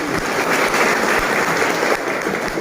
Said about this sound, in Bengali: একটু হাততালি দিয়ে সাংসদ